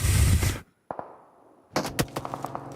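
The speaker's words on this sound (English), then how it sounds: "Just gunshots into sirens." PUBG Mobile match gunfire: a loud burst that cuts off suddenly, a pair of sharp shots after a short pause, then a rapid cluster of cracking reports.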